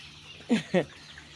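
Pullets on a Nigerian farm give two quick, loud clucks close by, rising over a quiet background hum.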